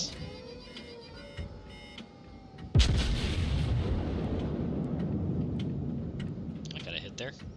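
A warship's gun fires in World of Warships with one sudden, loud boom, followed by a long rolling rumble that fades slowly under quieter game noise.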